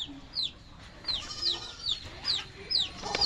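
Chickens at a rural Lao home cluck in a repeated series of short, close calls, about one every half second, over faint background noise.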